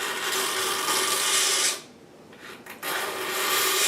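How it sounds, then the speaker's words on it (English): Harsh, close scraping of a razor blade taking the finish off the wood of a Philco 39-30 in long rasping strokes, broken by a brief pause before scraping resumes. "I'm scraping it off with a razor blade carefully."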